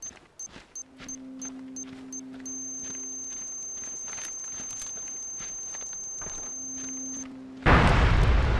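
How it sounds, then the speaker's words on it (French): A planted bomb charge in a tactical shooter video game beeps in sharp, evenly spaced chirps, then a steady tone holds before a loud, harsh explosion bursts in close and fills the end. "La charge a explosé."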